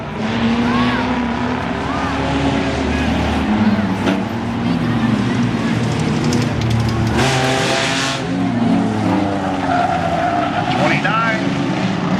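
A station wagon race car driven by Steve Durbin at Langley Speedway skids with squealing tires amid a pack of loud roaring race engines, while an announcer talks over the continuous track noise.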